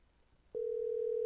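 An outgoing phone call placed during a live broadcast sends a single steady electronic tone through the line, starting after a moment of quiet and holding at an even, clear level with no one speaking.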